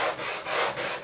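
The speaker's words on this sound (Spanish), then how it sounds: "Luego utilizaré la lijadora manual, que es más cómoda" Manual hand sander with a rubberised base rubbing sandpaper over a wooden piece on a hard surface, three steady back-and-forth strokes, loud and close with no talk.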